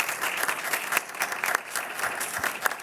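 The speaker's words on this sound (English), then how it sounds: "And I guess if we could have one more round of applause for Meredith, that would be great." A school committee meeting audience gives a round of applause: steady, moderately loud clapping from a room of people, even and continuous throughout.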